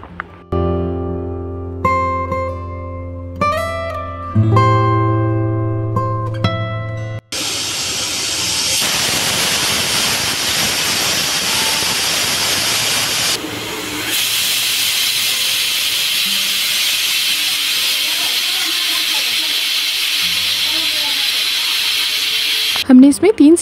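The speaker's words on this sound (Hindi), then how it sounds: "कुकर का लीड लगा के हाई फ्लेम में 2 से 3 सीटी लगा लेंगे" A pressure cooker on high flame whistles, a few seconds of tonal, musical sound, then a steady, loud hiss of escaping steam runs for a long stretch.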